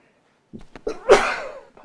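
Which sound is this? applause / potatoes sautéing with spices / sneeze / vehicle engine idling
sneeze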